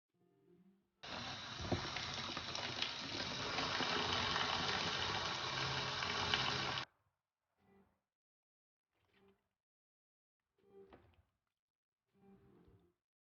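Avocados being washed in a bowl of water give a steady rushing, splashing wash for several seconds, followed by a few brief, faint handling splashes and clinks.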